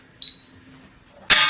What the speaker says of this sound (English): Oops, the antenna just fell.